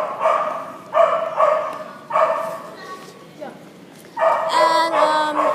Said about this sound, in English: Whoa, that's a big dog.